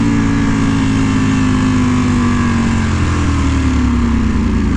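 A 2018 Ducati Panigale V4 S with a full Akrapovic exhaust drones loudly and steadily up close, its engine pitch sliding slowly downward with no pauses and no talking.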